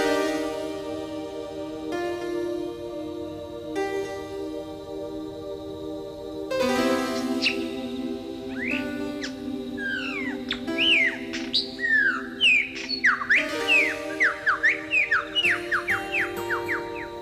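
A lyrebird sings a long, varied stream of mimicked calls: sharp whistles, rapid chirps and sweeping notes, growing busier and louder toward the end, with a steady hum beneath.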